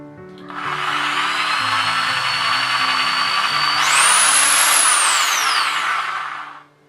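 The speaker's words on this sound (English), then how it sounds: "select forward mode for drilling hole and press trigger at your required speed" A Bosch GSB 500W impact drill runs steadily for several seconds in forward mode while boring a hole, its whine rising in pitch partway through before winding down, loud and close with no voices.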